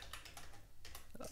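Fingers tap out text on a computer keyboard, a quick run of soft, close clicks with brief pauses, quiet and alone.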